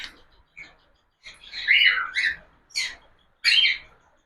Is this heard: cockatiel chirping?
yes